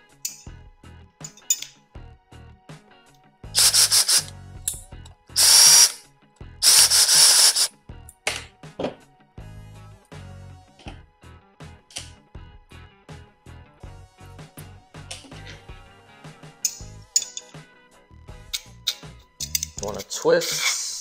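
Small metal screws being worked loose from the handguard of an AR pistol, heard as close, intermittent clicks, scrapes and rattles of tool on metal with a few louder bursts of handling noise.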